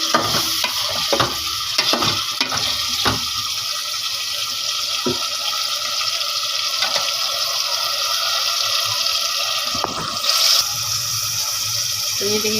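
Minced meat frying with garlic and onion for a Karachi-style karela keema sizzles steadily in the pan while a spoon stirs and scrapes in irregular strokes, close and continuous with no talk.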